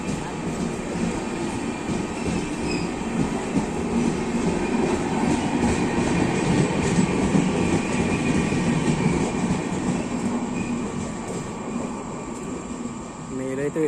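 The Howrah–Chennai Central superfast mail train passes close by at night, a continuous loud rumble with rattling, clattering wheels and carriages sustained throughout.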